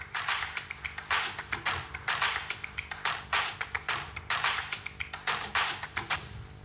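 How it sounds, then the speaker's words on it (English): A health conference audience gives a round of rapid, crisp applause in bursts, close and fairly quiet, with claps tapping out in uneven clusters. "Round of applause, please."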